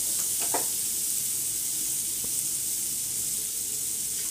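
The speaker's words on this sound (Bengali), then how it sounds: "এবার টমেটোটা দিয়ে দিলাম, দিয়ে ভালো করে নাড়ব।" Tomatoes sizzle steadily in a hot pan for a Bengali-style tomato dal, a constant close hiss with a few brief scraping stirs early on.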